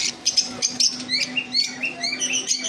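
Violet mask lovebirds chirping in a home, with rapid bursts of high, shrill tweets repeating in quick succession, close and fairly loud, with no voices.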